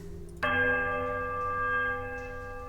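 A bell is struck in a video game: the right-hand smaller bell of a set gives a single clear metallic strike that rings on with sustained, steady overtones over faint background hum, with no speech.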